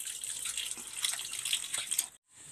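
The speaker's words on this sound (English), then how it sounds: "Soak the tools or implements in hot soapy water solution to remove any debris and oil residue." Tap water runs steadily into a basin of soapy water for soaking nail care tools, a close, continuous splashing hiss that cuts off briefly near the end.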